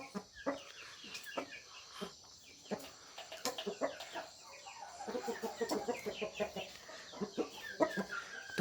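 A flock of chickens, among them a fighting cock of about 3 kg, clucks and squawks in a fairly faint, irregular stream of short calls that grows busier and more overlapping in the second half, with no voices.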